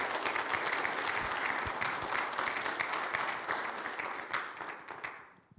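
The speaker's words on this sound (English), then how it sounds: "could we give these gentlemen a round of applause?" Sustained applause from a crowd at a church worship service, dense clapping that holds steady for several seconds before tapering off at the end.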